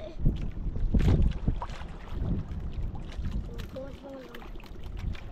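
Strong wind buffets a small boat on open water, roaring and gusting steadily at the microphone, with a few voices talking faintly underneath.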